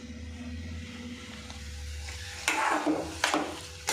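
Tomatoes with salt fry over high heat in a pan, a low sizzle followed by two louder bursts of spoon scraping and stirring against the pan.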